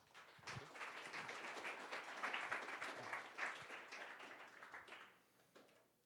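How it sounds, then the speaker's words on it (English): An audience at a cryptography meetup applauds a speaker, with dense clapping that swells and then tapers off over about five seconds. "give him a good round of applause"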